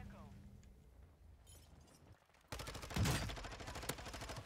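Gunfire in Call of Duty Warzone on the Vondel map, bursts of loud shots and sharp cracks erupting suddenly after a quieter stretch, rapid and close, continuing in clusters.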